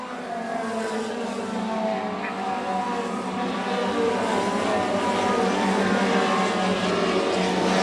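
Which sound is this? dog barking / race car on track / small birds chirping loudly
race car on track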